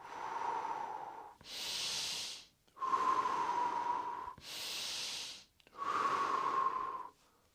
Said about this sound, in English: you inhale into the belly, chest pursed lips out like you blow out a candle